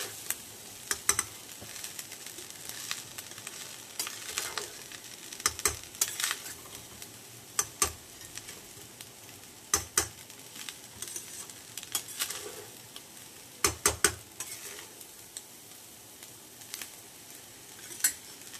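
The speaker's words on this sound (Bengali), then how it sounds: "এবার এটাকে ভালো করে মেশাবো" Mixed fried rice seasoned with soy sauce and salt is stirred in a pan: quiet, irregular spatula scrapes and taps against the metal over a faint low sizzle, with no talking.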